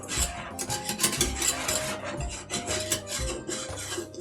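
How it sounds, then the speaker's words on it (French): A metal whisk works flour into melted butter in a pan to make a roux for lasagne, giving a steady close scraping and rasping stir with rhythmic clinks against the pan. "on vient remuer avec un fouet"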